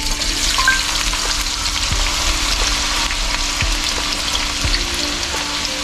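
Sliced potatoes half-frying in hot oil for a Spanish tortilla, a steady close sizzle with faint stirring and occasional light clinks, no voices.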